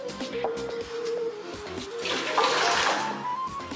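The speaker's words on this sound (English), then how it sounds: "I'm just gonna pour in 2 cups into my pot." Hot water from a kettle pours into a cooking pot in a steady, close splashing stream for a few seconds, rising in brightness as the pot fills.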